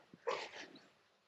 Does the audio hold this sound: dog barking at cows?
yes